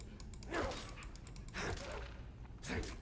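A dog in the video game Skyrim yelps and whimpers three times at regular intervals as it is struck, faint against a low background hum.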